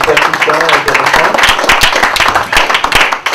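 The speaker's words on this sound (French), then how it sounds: "je voudrais qu'on applaudisse le panel et les intervenants" An audience at a conference applauds the panel, a dense, steady burst of clapping from many hands filling the room throughout.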